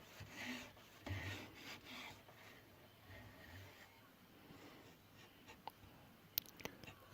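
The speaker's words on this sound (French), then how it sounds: "Avec la scie japonaise." Quiet, steady rasping strokes of a Japanese saw working through an old butcher block, with a few sharp clicks and knocks near the end.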